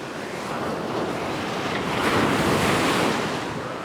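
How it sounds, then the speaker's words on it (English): Ocean waves washing onto a shore where someone is fishing with metal lures, a steady close roar of surf with wind, swelling slightly midway, with no voices. "The water's rushing back."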